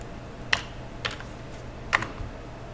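A computer keyboard gives a few sharp, separate key clicks, about three presses spaced apart over a quiet background as shortcut keys are pressed.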